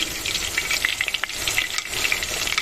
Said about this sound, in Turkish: köftenizi kızartır yoğururken